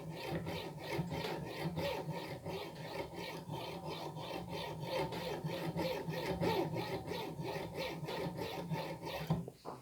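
A hand saw cuts a piece of metal held in a vice, giving steady, rhythmic rasping back-and-forth strokes at an even pace, close and continuous for about ten seconds with no talking.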